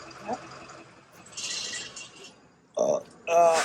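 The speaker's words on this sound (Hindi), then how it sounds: "अब तुम बोलो डकार आ गया।" Someone burps during a night ride, a short low belch amid rustling and background noise, followed by louder voices and a harsh breathy sound.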